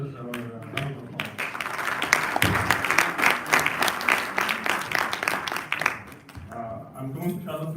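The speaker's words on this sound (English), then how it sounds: "Please give the presenters our round of applause." Conference audience applauding presenters at an international conference on Palestine, a dense, sustained wash of clapping that swells and then tapers off, with talk before and after it.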